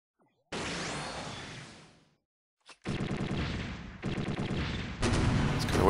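Missile launches from the GN Arms Type-D Dynames in the mech game SDGO: a long rushing whoosh fades out, then after a short gap several loud, dense barrages of launches and blasts follow in quick succession, with no talk.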